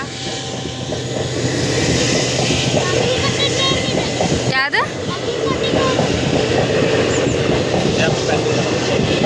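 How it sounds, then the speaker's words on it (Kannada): A train rolls past close by at a railway crossing, with a loud, steady rumble and rhythmic clatter of wheels throughout and a brief horn-like squeal midway; a person says a word over the noise. "ಒಳಗೆ ಟ್ರೈನ್ ಕ್ರಾಸಿಂಗ್ ಆಯ್ತು ನಿಂತೀವಿ ಫಸ್ಟ್ ಟೈಮ್ ನಾವು ಇಷ್ಟು ಹತ್ತಿರದಿಂದ ನೋಡಾತಿದ್ದೆ"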